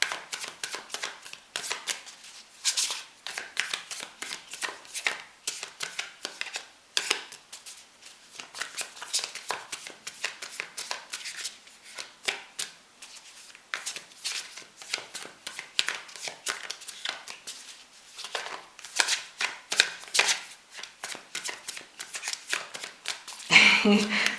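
A deck of cards is shuffled by hand for a card reading, with repeated riffling and flicking bursts in an irregular rhythm, close and fairly quiet, and a voice speaks faintly at moments.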